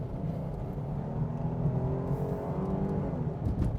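2023 Jeep Grand Cherokee engine accelerating toward 100 km/h, a low, moderate engine drone with gradually rising tone heard from inside the cabin, fairly quiet, with no talking.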